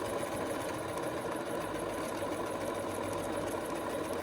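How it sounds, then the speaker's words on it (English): A sewing machine runs steadily as it stitches around a fabric rectangle for a zip bag made from scrap fabric, a continuous close mechanical whir with rapid needle rhythm and no pauses. "I'm just going to stitch all the way around"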